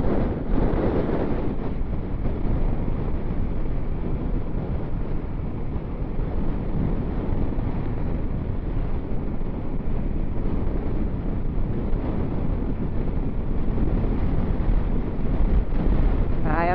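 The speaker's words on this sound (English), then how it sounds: "Feel the wind up on the big curve up here." Heavy wind buffets the microphone throughout a solo motorcycle ride on a curving road, a steady loud roar with no letup and no talk over it.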